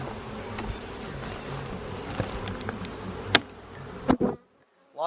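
Honey bees buzz steadily at close range during a beehive inspection, a dense continuous drone with a few louder passes near the microphone before it cuts to near silence.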